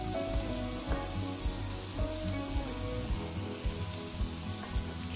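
Whole morel mushrooms sautéing lightly in a pan, a soft steady sizzle with regular faint taps and stirring knocks over a low background hum.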